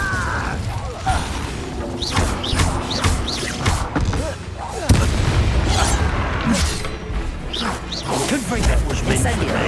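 Confringo and Incendio spells cast in Hogwarts Legacy, a busy run of whooshing magical blasts, fiery bursts and booming impacts with clanking mechanical noises, loud and close, with spoken incantations among them.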